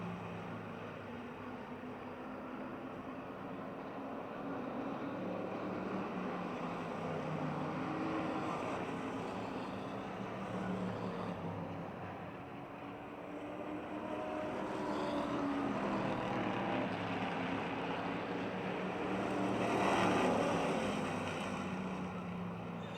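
Race cars roar around the Motordrome Speedway track at night, a broad, steady engine drone swelling and fading as the field passes through the turns, heard from a distance without talk.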